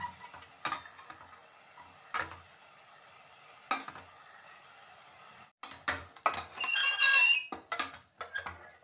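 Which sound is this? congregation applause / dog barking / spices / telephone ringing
spices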